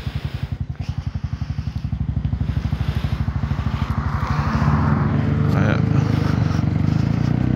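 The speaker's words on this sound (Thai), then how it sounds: "เดี๋ยววอร์มเครื่องก่อน" Honda Forza 350 scooter engine warming up, a steady rhythmic idle thump that picks up into a denser, louder, smoother drone after a few seconds, close by and alone.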